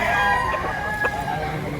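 Rooster crowing close by at a rainy poultry market in Lipa, Batangas, where fowl are being sold; a single drawn-out crow with layered harmonics over background market noise.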